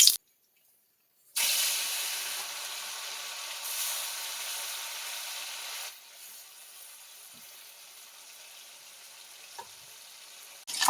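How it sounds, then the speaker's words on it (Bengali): Gang morla fish frying in hot oil in a kadai give off a bright crackling sizzle after a brief silent start, loud at first, then settling into a softer, steady hiss. "মাছগুলো এবারে ভেজে নেব"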